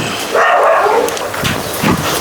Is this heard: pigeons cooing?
no